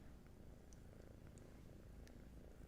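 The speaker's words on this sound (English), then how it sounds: "The foster kittens have decided that they wanted to be part of the session" Soft, steady purring from foster kittens, a continuous low rumble throughout, faint and close with a few light ticks and rustles above it.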